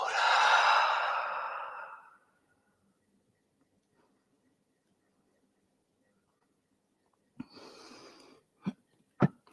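Slow breathing during a yoga class: one long, deep, airy exhale close to the microphone, then silence and a few short breaths and soft sniffs.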